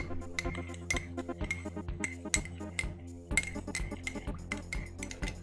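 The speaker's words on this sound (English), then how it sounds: "Now I'm going to proceed to stir." A spoon stirs strong Twinings English Breakfast tea with the bag left in the cup, giving a steady series of close, bright clinks against the ceramic, one every fraction of a second, with no talking.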